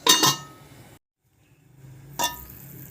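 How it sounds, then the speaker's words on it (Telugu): A lid set on a cooking pot of water, two sharp metallic clinks separated by a second of near silence, close and fairly loud. "వాటర్ మరిగే వరకు మూత పెట్టుకుందాం."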